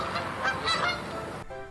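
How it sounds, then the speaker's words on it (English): Canada geese honk overhead in a few quick, moderately loud calls over a breezy background. "The Canada geese fly in a V-shaped formation, while calls from overhead indicate a transition into spring or autumn."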